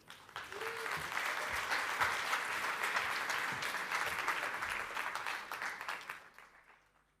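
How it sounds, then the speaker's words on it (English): Warm applause for panelists at a London Tech Week session builds quickly, holds at a steady full level for several seconds, then fades out into silence near the end. "giving a warm welcome, a warm applause to our esteemed panelists"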